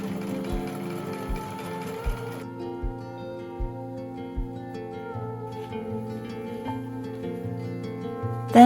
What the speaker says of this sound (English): Then I sewed the edges of the handles, but leaving the ends open so I could attach them to the bag.